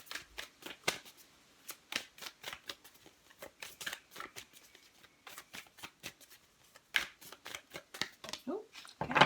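Moonology oracle cards are shuffled by hand in quick, crisp riffling bursts with short pauses between them, close and fairly quiet, with no talk over the shuffling.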